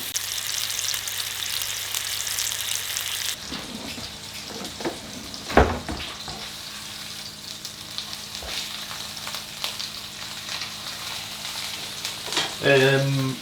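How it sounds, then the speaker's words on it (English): Meatballs browning in a hot pan in a cottage kitchen, a steady close sizzle and crackle running throughout, with a brief louder clatter midway and a stir near the end. "add the meatballs and cook for about 4 to 5 minutes until browned all over"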